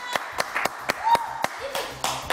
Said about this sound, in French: Bah, on applaudit très fort.